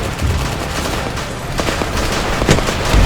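Rapid gunfire from soldiers shooting at enemy infantry in a war video game, a dense continuous fusillade of overlapping shots with sharper bursts near the end, loud and close.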